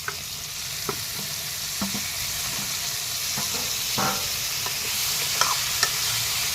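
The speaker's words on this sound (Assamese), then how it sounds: "এতিয়া ভালকৈ লৰাই 10-15 মিনিট সময় মই ভাজি ল'ম।" Constant hissing sizzle of chicken with turmeric frying in oil in a pan, with occasional clicks and scrapes of stirring over the top.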